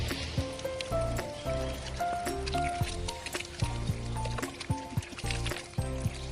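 Running water rinsing grape paste off hands, a steady splashing and trickling flow close by with irregular drips and rustles throughout.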